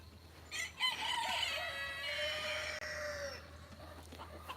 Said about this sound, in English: I hear them crowing